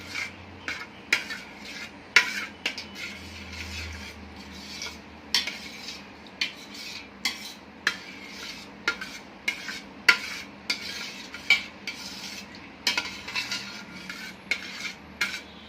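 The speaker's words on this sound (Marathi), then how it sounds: "आणि हे शुद्ध घी तीन चमचे मिक्स करून घेऊया" Spoon clinking and scraping against a pot while three spoonfuls of pure ghee are stirred into basmati rice kheer, a steady run of sharp metallic taps and rubs, close and fairly quiet, with no talking.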